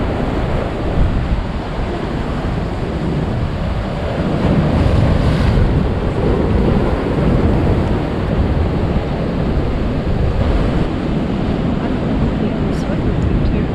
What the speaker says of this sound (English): These waves came way up here.